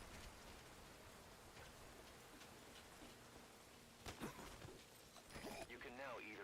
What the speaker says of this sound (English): That rain just won't let up.